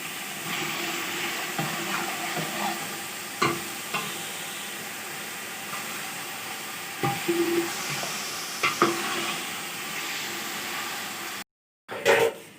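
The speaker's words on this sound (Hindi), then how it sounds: "इसको अच्छी तरह भून लेंगे।" Masala and mutton fry in a pot while being stirred, giving a steady close sizzle with scraping stir knocks throughout and a brief silent gap near the end; no talking.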